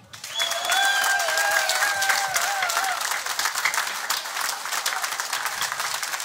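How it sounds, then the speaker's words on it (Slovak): An audience at a surprise birthday celebration breaks into loud, sustained applause that fills the room, with a few high whistles cutting through early on before the clapping continues steadily. "dúfam, že nám pomôžete s veľkým potleskom"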